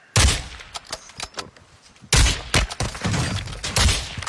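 Video game gunfire, loud close bursts of rapid shots in two volleys with scattered single cracks between, no speech.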